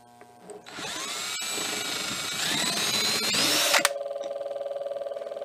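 A refrigerator compressor motor with its housing opened, kickstarted by hand and spinning up into a rising high-pitched whine that cuts off abruptly and leaves a steady pulsing hum.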